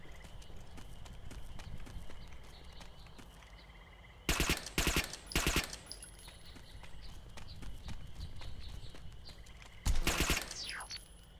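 Gunfire in the video game Interstellar Marines comes in two short, sharp rapid-fire bursts separated by several seconds of quiet background ambience, the second burst trailing off with a fading tail.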